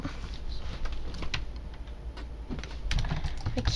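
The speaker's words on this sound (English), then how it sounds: "My keyboard just had a seizure." Rapid clattering on a computer keyboard during a Minecraft session: fast, uneven keystrokes tap continuously and fairly close, with no talking.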